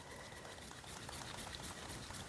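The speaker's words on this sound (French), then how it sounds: "là, je viens de mettre l'eau, ça fait des bulles" Fine bubbling and fizzing as water is stirred into acrylic pouring medium, a faint, steady soft crackle close by with no voices.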